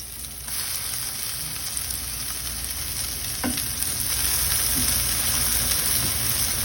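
A second batch of keto zucchini fritters sizzles steadily in a hot frying pan, a close, even crackle and hiss with a few faint clinks and no talking.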